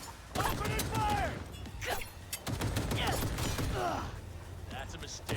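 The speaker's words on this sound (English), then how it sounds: "Opening fire!" Bursts of gunfire in the video game Cyberpunk 2077, sharp volleys in short clusters separated by gaps, with voices talking between and over the shots.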